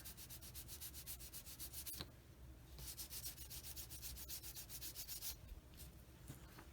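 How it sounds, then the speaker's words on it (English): Rapid back-and-forth scraping of sandpaper on a plastic part of a 1/48 scale model aircraft, a steady gritty rubbing rhythm with a couple of brief pauses, close and fairly quiet. "You just keep sanding it till it's flush."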